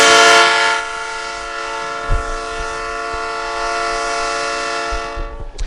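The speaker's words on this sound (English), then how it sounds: "That's the sound of the train horn." A long, steady train horn blares at a high school football game with a rich chord of tones, holding for several seconds before cutting off abruptly; faint thumps underneath.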